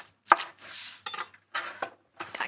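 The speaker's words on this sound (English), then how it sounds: "So we'll just roughly chop the coriander." Fresh coriander being roughly chopped with a knife on a board: a few close, sharp knife strikes in short bursts separated by pauses, loud and crisp with no voices.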